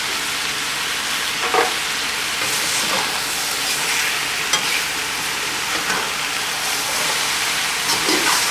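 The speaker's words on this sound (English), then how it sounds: "Stir it until all the ingredients get incorporated." Arroz con pollo ingredients with tomato sauce and dry seasonings stirred in a pot, giving a steady scraping, sizzling wash with a few soft clinks of the spoon, fairly close and with no one talking.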